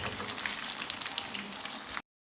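Banana fritters (pazham pori) frying in hot oil in a deep pan, a steady dense sizzle for about two seconds that cuts off abruptly into silence.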